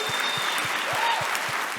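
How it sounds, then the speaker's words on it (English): An audience at a keynote event applauds in a steady, continuous wash of clapping that fills the whole short moment. "Let's give Dean Rashad a round of applause"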